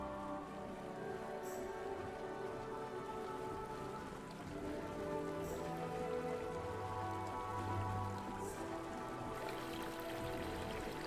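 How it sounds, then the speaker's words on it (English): Water flows steadily around a water wheel in a video game, a constant soft trickling and splashing wash with no other sounds. "Alright, there is a water wheel over there."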